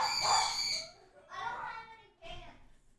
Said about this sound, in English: Birds, so loud.